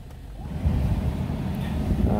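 A Daihatsu Move L175S kei car engine idles just after starting, a low steady rumble with a soft, wind-like hiss, moderately loud and alone.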